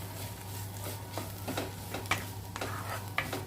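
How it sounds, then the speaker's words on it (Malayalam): Ground coconut paste with kanthari chilli and turmeric is stirred into okra thoran in a pan, giving quiet scraping and soft clicks of a spoon over a low hum. "ഇതങ്ങ് ചേർത്ത് കൊടുക്കണം നന്നായി യോജിപ്പിച്ച്"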